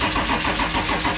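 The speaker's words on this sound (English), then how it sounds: "We'll probably just have to crank it over when it starts" Toyota FJ75 Troopy fitted with a swapped M57 engine cranks over and catches, a steady loud mechanical churn with rhythmic pulsing filling the whole short stretch, no voices.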